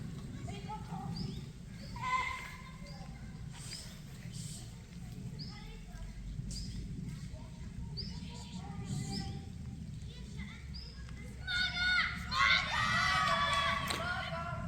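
A horse at a summer survival camp for schoolchildren in Bloke is heard faintly amid outdoor ambience, with children's voices and a livelier crowd-like stretch near the end.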